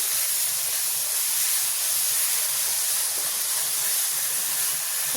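Onions fry in hot oil for netthalla pulusu, a steady, close broadband hiss and sizzle that continues evenly with no speech.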